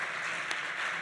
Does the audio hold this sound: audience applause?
yes